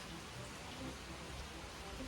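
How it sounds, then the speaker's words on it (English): Rain falls on a tin roof as a steady, faint wash of hiss and patter with no break. "I'm just listening to it rain on our tin roof"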